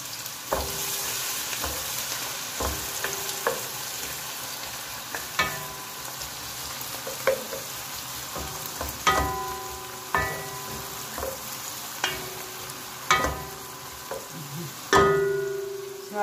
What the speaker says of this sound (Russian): Сначала овощи будем жарить, потом мясо добавим.